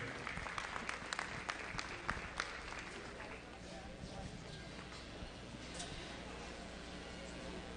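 Crowd applause for youth meat goat exhibitors leaving the show ring at a county livestock show, scattered clapping in a large barn that starts busier and thins out, with faint background talk underneath.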